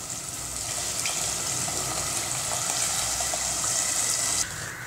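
Dissolved tamarind water pours steadily into a hot pan of sautéed tomatoes and sambar powder for a South Indian kuzhambu, a continuous close splashing hiss with sizzling, ending abruptly near the finish.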